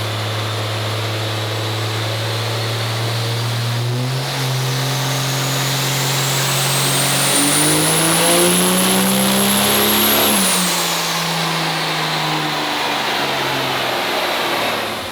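A race truck fitted with a 2020 6.7L engine runs hard on a dyno, roaring loud and close with a steadily rising pitch as it revs up through a long pull before backing off, with no talking.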